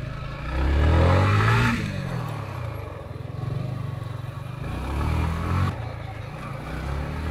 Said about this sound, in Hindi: ऊपर चढ़ाते हैं पहले बाइक को